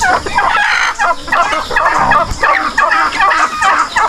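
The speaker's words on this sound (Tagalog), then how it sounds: "nagsalipitan na yung mga manok" A flock of chickens feeding on corn, clucking and squawking busily close by, with turkey gobbles mixed in, a steady lively chatter of fowl.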